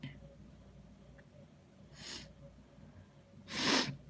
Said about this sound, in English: My fault. Morning sniffles.